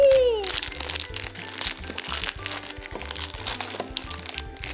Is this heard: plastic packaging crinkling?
yes